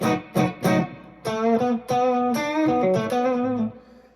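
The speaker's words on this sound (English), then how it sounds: "Here's with the tube screamer." A 52 reissue Telecaster played through a Tube Screamer into a Deluxe Reverb amp: a few short, crunchy overdriven chord stabs, then sustained, singing overdriven notes ringing out clearly and alone.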